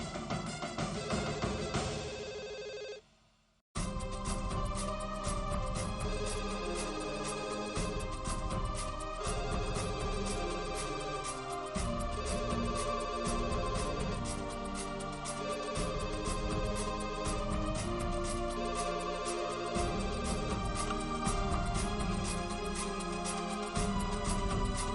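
A telephone rings on and on in a repeating electronic pattern, loud and close, with a brief cutoff near the start before the ringing resumes.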